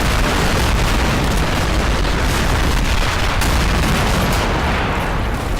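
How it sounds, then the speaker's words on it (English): Artillery fire in the war game Men of War Assault Squad 2: a dense, loud, continuous rumble of booms and blasts that fills the whole stretch without a break, no voices on top. "here comes some artillery fire now"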